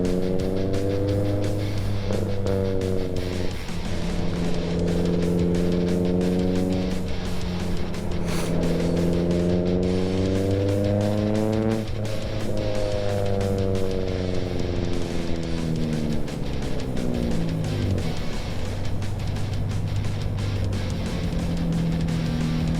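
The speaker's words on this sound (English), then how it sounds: "this fucking Honda S2000 is pretty loud" Loud Honda S2000 engine droning steadily with repeated rising and falling revs throughout, close and sustained.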